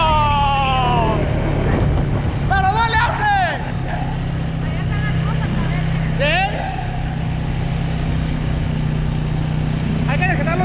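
A motorcycle rides through a village, its engine a steady low rumble with wind buffeting the microphone, while people on board chatter and exclaim over it.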